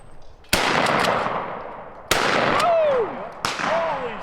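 Three loud, sharp blasts from a Mossberg Bantam 20 gauge shotgun at an outdoor clay shoot, spaced irregularly, each ringing off with a long decaying tail; a faint whistling tone trails after the later shots.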